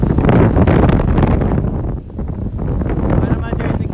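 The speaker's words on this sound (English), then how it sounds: "It's so windy, guys." Strong wind roars through a winter woodland, gusting and buffeting the microphone in loud rushes that ease briefly midway, with a voice talking underneath.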